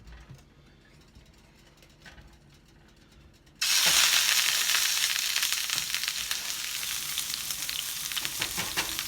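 Chuck roast hits a hot pan slicked with flaxseed oil, a quiet low hum giving way after about three and a half seconds to a sudden loud, steady sizzle that continues close up without voices.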